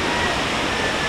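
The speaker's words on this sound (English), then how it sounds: "But Wailua Falls is one of the easiest to access waterfalls in Kauai." Wailua Falls, a waterfall on Kauai, gives off a steady, dense roar of rushing water that stays unbroken for the whole second.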